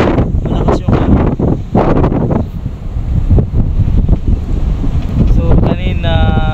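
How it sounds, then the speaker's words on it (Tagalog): Strong wind buffets the microphone on a boat at sea, loud gusting roar throughout with a brief voice near the end. "Malakas yung hangin."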